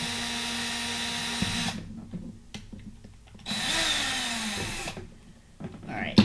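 A power drill works a screw into plastic for a junk journal charm in two whirring bursts that start and stop abruptly, with short clicks and handling sounds between them.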